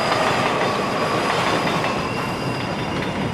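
A train in the 1990 film Ghost, heard as a loud, steady rumble of a railcar in motion with rhythmic wheel clatter and thin squealing from the wheels, with no talking.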